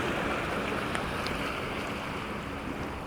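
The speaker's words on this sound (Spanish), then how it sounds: "lancha que va allá a lo lejos estaba aquí." Distant motorboat on open water, a steady broad wash of engine and waves blended with wind buffeting the microphone, continuous and unchanging throughout with no talk.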